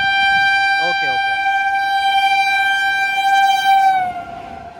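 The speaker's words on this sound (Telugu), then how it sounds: "ఆ ట్రైన్ వచ్చింది, మన ట్రైన్ స్టార్ట్ అయింది." The Andaman Express train sounds a long, loud, steady horn close by. The horn holds for about four seconds, then fades as the train starts moving, with a brief voice under it.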